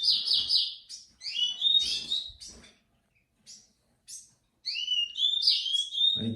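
Several pet birds kept in a bedroom chirp and tweet in bright, rapid bursts, close and fairly loud, with a short quiet pause midway before the calls resume.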